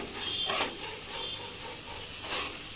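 Hilsa fish frying in a pan, with a steady close hissing sizzle and soft scraping bursts of stirring, no voices.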